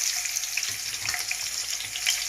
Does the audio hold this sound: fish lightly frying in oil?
yes